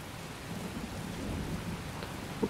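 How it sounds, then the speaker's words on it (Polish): Rain falls steadily in the video game Heavy Rain, a soft continuous patter with a low thunder rumble underneath and a brief sharp knock near the end. "Pada sobie."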